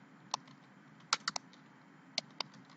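A few isolated keystrokes on a computer keyboard while a C# cafe management app is being built, sharp clicky taps in small clusters over a low steady hum, no voices.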